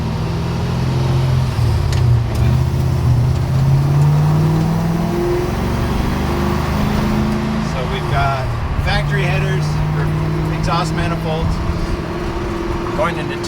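An idling 1966 Toyota Stout with a swapped Lexus V8 rumbles and rises in short revs through a stainless exhaust with X pipe and stainless mufflers, while someone talks over it.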